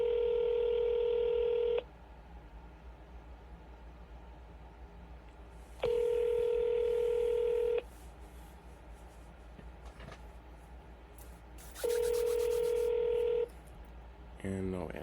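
An outgoing phone call on a cold call rings out unanswered, with three long ringback tones at even intervals and quiet line hiss between them, then a few short beeps at the end.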